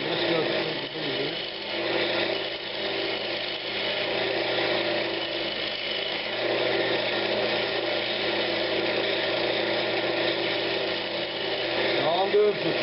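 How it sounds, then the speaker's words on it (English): A wood lathe turns an old pine cabinet knob, giving a steady motor whine with a scraping cutting texture that runs throughout while someone talks over it. "now I'm going to start turning this all down to get it where I need it"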